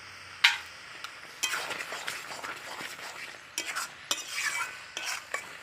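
Taro and prawns stirred in a pan over a cooking fire, with repeated scraping strokes of a utensil against the pan over a soft sizzle, in irregular bursts close by.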